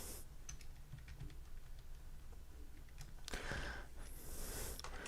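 Keys clatter on a computer keyboard in quick, uneven bursts, faint and close, with a brief louder scuffle partway through and no talking.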